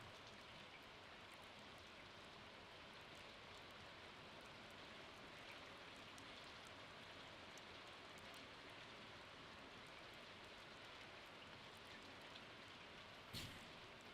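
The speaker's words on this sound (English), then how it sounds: "Alright, it's raining" Rain falling in the farming game Stardew Valley, a steady soft hiss of raindrops that stays even and faint throughout, with no voices.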